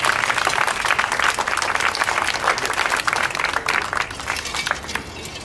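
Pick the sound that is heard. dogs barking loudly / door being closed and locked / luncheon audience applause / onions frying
luncheon audience applause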